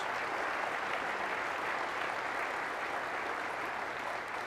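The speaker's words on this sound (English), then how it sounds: "The color guard from the Maine National Guard getting a round of applause as it exits." Sustained crowd applause fills a large hall at Maine Governor Angus King's 1999 inauguration as the Maine National Guard color guard exits, a broad, steady roar of many clapping hands with no break.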